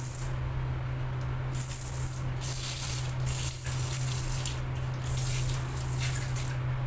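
Water flushing and running from a repaired toilet faucet, a steady loud hissing rush with surging splashes, continuous and close with no talking.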